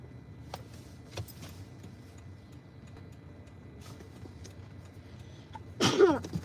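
A sneeze erupts inside a car waiting at a traffic light, loud and close over a low idling cabin hum with faint ticking beforehand.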